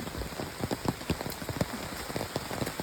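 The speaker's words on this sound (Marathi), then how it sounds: "कंटिन्युअस रात्रभर पाऊस पडलाय" Heavy monsoon rain in Konkan, India, pattering steadily on a surface with scattered louder drops, continuous and fairly close with no voices.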